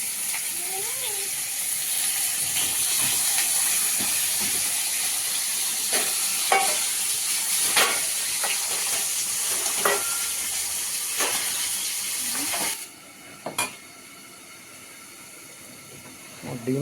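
Steady sizzling hiss of fish frying in a pan, with scattered clatters and stirring scrapes; the sizzle drops off near the end.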